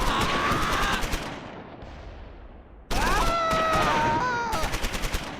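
BAR squad ambush in the World War II game Close Combat 4, Battle of the Bulge at Wiltz: rapid automatic gunfire bursts with sharp repeated cracks, a lull of echoing rumble, then more bursts alongside whistling tones.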